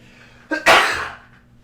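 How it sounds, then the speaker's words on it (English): One loud, close sneeze, starting with a short sharp intake and ending in a burst that fades quickly. "I'm gonna sneeze"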